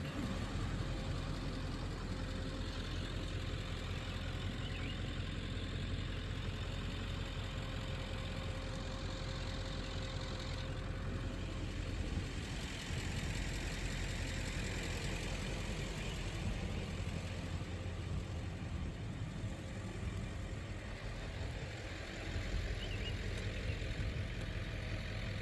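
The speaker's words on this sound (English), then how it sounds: "Truck's gonna be noisy." A truck engine idling with a constant low rumble and broad hiss on a bridge, steady and moderately distant throughout, no talk.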